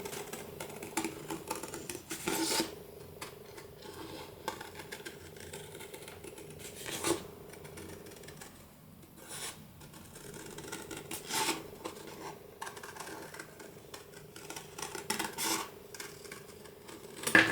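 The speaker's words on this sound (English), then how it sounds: "So I just trim around this." Scissors snip and trim around card paper, with quiet, irregular cutting strokes and a few sharper clips scattered throughout, close up and alone.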